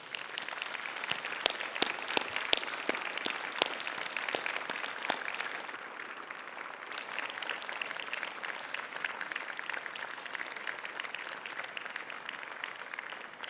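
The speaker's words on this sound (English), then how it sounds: "let's give your family and friends a round of applause of thanks for their support" Sustained applause from a large crowd at a university graduation ceremony, steady and even throughout, with a few sharper individual claps standing out near the start.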